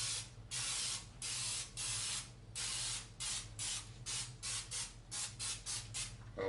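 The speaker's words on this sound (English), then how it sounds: "I'm just going to spray all sides of the fish" Pam cooking spray hisses onto catfish in a run of short bursts, some longer and some quick, close and fairly soft, with no talk over it.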